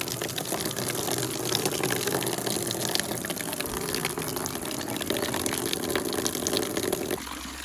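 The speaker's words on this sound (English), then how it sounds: "let's get it filled back up" Tap water gushing steadily into a pig's water trough, a continuous loud splashing rush that holds even for the full stretch, close up.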